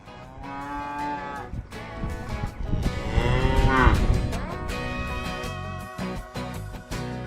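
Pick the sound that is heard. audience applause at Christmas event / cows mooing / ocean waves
cows mooing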